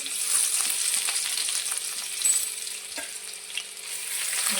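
Steady hiss of ginger garlic paste frying in hot oil, with occasional small pops and stirring scrapes, close by and continuous with no voices.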